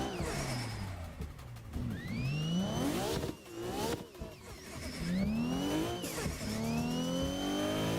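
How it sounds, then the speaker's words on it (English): A Volvo in the driving game Assetto Corsa revs hard and accelerates, engine pitch sweeping up through repeated gear changes, with a brief dip where the car shifts before climbing again, loud and continuous throughout. "The sound of this car."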